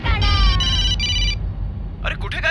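A phone ringtone sounds in a short run of tonal beeps during a tense indoor drama scene, with loud background noise and voices following as it stops.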